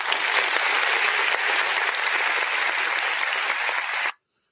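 Steady, dense applause from a crowd of many hands, loud and even throughout before cutting off abruptly near the end.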